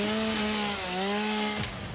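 Chainsaw in Satisfactory cutting through foliage, a steady droning buzz with a pitch that dips and rises as it bites, close and loud with no talk.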